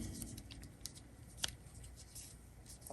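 Scissors snipping crochet yarn, a few quiet close clicks with one sharper cut standing out over soft background rustle.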